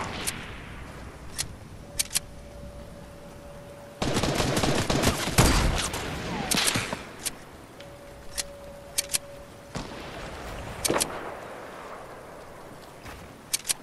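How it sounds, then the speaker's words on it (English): Sniper rifle shots in the Fortnite battle royale game, a few sharp cracks spread across the stretch with a dense burst of rapid gunfire in the middle, loud and without talk. "What's up with me getting sniped at, bro?"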